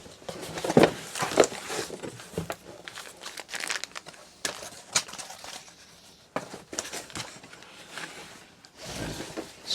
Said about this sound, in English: Let's unbox it and have a look.